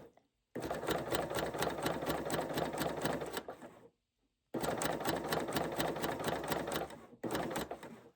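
Sewing machine chain stitching a decorative binding through a thick quilt sandwich with heavy 8wt thread at a long stitch length, a fast, steady mechanical rattle in two long runs split by a pause, then a short final burst.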